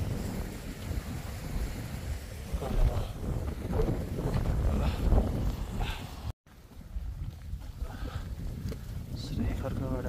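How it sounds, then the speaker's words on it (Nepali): Strong mountain wind buffets the microphone on a trek trail near Shree Kharka in Manang, Nepal, on the way to Tilicho Lake, a loud continuous roar with gusts, while voices talk underneath. "खतरा हावा चलिरहेको छ"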